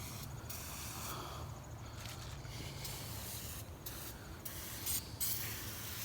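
Engine cleaner is sprayed over a car engine in short hissing bursts, the aerosol spurts coming one after another against a steady low background rumble at a modest level.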